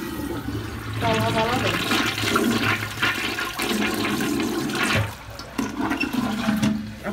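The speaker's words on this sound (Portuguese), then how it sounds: "dou uma descarga" A household toilet flushes with a loud rushing, gurgling surge of water that runs for several seconds and briefly drops off near the end, while someone talks over it during home cleaning.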